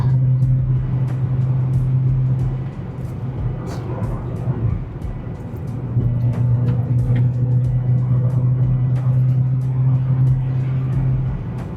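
A Peugeot 406 car driving fast on a road, with a steady engine drone and rough road rumble throughout, jolting over uneven surface, heard from inside the cabin with no speech.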